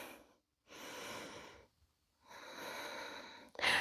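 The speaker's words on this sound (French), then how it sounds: "On prend 2 respirations, toujours en essayant au maximum de s'allonger." Two long, deep breaths are taken during a back-stretching routine, each a slow, close airy rush separated by a short silence, ending with a sharper exhale.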